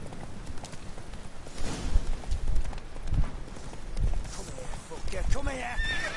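Black horse in The Witcher 3 game clip-clops with steady hoof beats and lets out a rising whinny near the end, while a person talks over the game sounds.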